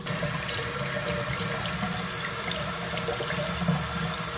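Warm tap water runs steadily over hands into a sink, a continuous close hiss and splash with no talk over it.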